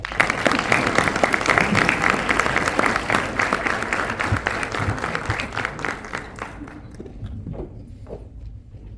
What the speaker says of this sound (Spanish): a quien les pido le otorguemos un fuerte aplauso